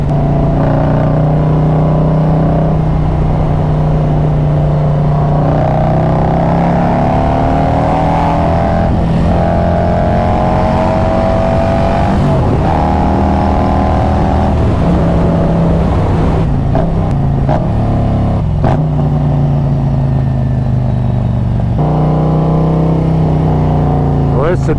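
Harley-Davidson motorcycle, a Street Glide or Road Glide, rumbles with a loud, steady low engine drone that rises and falls through several revs on a cold December ride, with someone talking over it throughout.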